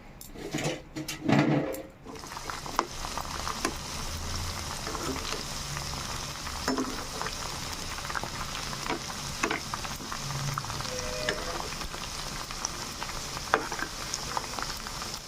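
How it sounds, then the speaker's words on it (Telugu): Drumstick pieces frying in hot oil for a Telugu drumstick pickle, a steady close sizzle and crackle that goes on throughout after a brief clatter at the start, with no voices. "ఆయిల్ హీట్ ఎక్కింది ఇప్పుడు మునక్కాయ ముక్కలు వేసుకుని వేయించుకుందాం"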